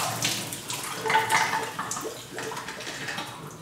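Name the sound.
photo flow solution poured out of film developing tank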